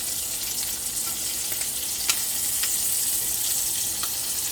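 Food fries in a pan on a small stove burner, giving a steady, close sizzle and hiss with occasional faint pops and scrapes, with no talking over it.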